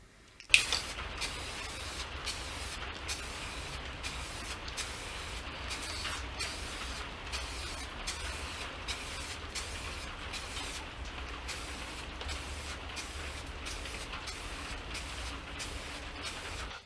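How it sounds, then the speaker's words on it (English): Black spray paint hisses onto a guitar pickguard in repeated short bursts, a rapid rhythmic series of close sprays with brief gaps, starting after a click. "let's go out now and just spray paint some black."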